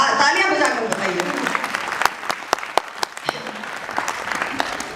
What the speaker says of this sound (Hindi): तालियां बजाकर बताइए।